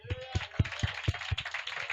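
Rhythmic clapping from a congregation, about eight even claps in quick succession, close and moderately loud, with a murmur of voices underneath.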